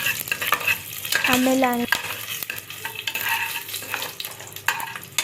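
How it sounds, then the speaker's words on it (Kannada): Whole pulao spices stir-fried in hot oil for capsicum tomato rice, a close crackling sizzle broken by scraping and clinking of a spatula against the pan, with a single brief spoken word. "ಇವಾಗ ಅವಾಗೆ ತೋರಿಸಿರೋ ಪಲಾವ್ ಸಾಮಾನೆಲ್ಲ ಇಟ್ಕೊಂಡು ಸ್ವಲ್ಪ ಫ್ಲೇವರ್ ಗಮ್ಮನ್ನಂಗೆ ಫ್ರೈ ಮಾಡ್ಕೊಳ್ಳೋಣ"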